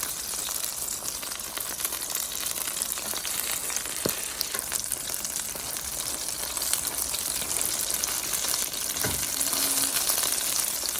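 A Korean pancake crackles and sizzles on high heat in a hot pan, a loud dense frying hiss that stays steady throughout, broken by a couple of faint clinks.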